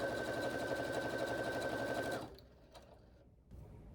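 A sewing machine chain-pieces strips of quilt fabric with a rapid, steady whir for about two seconds, then stops, leaving faint handling noises nearby.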